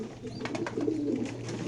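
White racer pigeons cooing at close range, several soft low throaty coos repeating over the background noise of a pigeon loft, with no talking.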